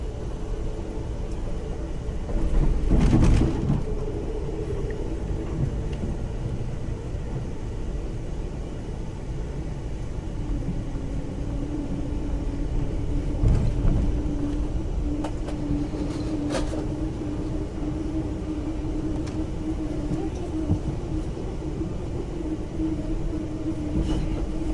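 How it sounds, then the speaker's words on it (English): A Norfolk Southern train hauled by SD40E diesel locomotives, rebuilt from SD50s, rolls steadily past with a continuous rumble of wheels and rails, sharper clanks and surges now and then, and no voices. "The diesels that we spot are SD40Es. They were originally SD50s until they were rebuilt."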